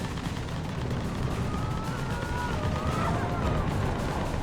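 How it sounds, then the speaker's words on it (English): Dense gunfire in the video game Mass Effect 3: a continuous rumbling barrage of shots and blasts with little break, loud and busy, with faint tonal game sounds running through it. "Oh, there's loads of shooting."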